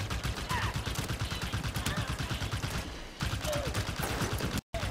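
Rapid turret gunfire in the shooter Halo 5: Guardians, a steady stream of dense automatic shots that runs almost continuously, dipping briefly before cutting off near the end.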